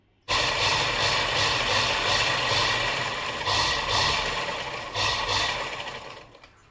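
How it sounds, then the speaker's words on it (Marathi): Electric sewing machine running steadily as it stitches a fall onto a saree, a continuous mechanical whirr with rhythmic clatter that starts abruptly, holds for several seconds, then slows and stops. "चला मी आता शिलाई मारून घेते"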